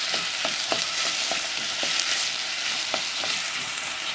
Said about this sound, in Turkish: Şöyle kabaklarımı da biraz kavuracağım o çiğliği gitsin